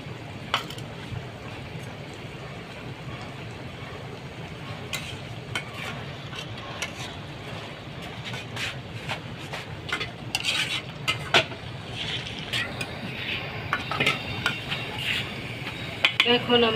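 A spoon stirs kochur loti (taro stolons) with shrimp and green chillies in a pan, with steady sizzling frying under repeated metallic scrapes and clinks that grow busier and louder toward the end.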